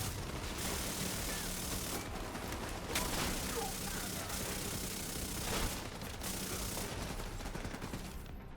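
Bursts of SMG fire in The Division 2 rattle in rapid, dense volleys with brief pauses between magazines, a steady mechanical clatter kept fairly quiet in the mix.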